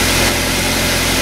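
A Nissan Serena engine idles steadily and close by, a constant low hum with an even mechanical vibration and no other sounds.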